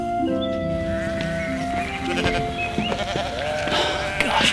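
Sheep bleat in an open field, several overlapping bleats rising and falling in a steady run, loud and close, with no talk over them.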